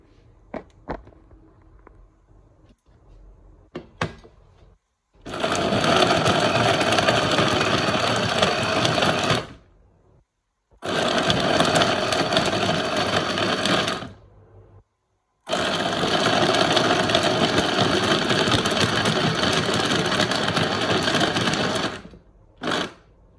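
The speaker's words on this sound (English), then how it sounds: "I have added some dry fruits here and again I will blend this." Electric blender whirring through a homemade ice cream mixture with added dry fruits, in three loud sustained bursts separated by short pauses, preceded by faint handling clicks and no talking.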